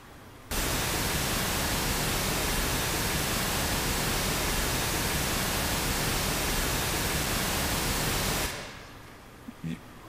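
White noise generated from image data plays as a loud, flat, continuous hiss that starts abruptly, holds steady for about eight seconds, then fades out.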